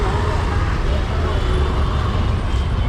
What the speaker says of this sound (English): there's a big bus coming